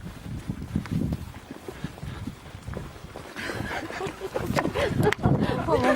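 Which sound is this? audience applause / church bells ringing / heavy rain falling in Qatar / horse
horse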